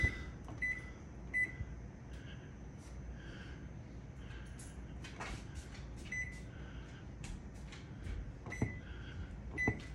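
A Samsung microwave's keypad gives several short, sharp beeps in an irregular sequence while the clock is set, heard close over a low background hum.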